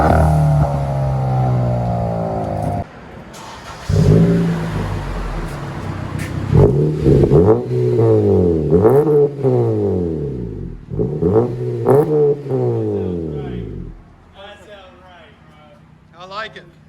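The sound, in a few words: car engine revving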